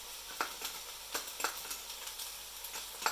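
Yakisoba noodles with ginger stir-fried in a hot pan, a steady low sizzle broken by repeated scraping tosses of a utensil at an even rhythm, close and with no voices.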